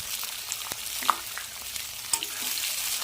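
Chopped onions frying in a pan, a soft continuous sizzle close by with occasional light clinks and scrapes as they are stirred, no voices.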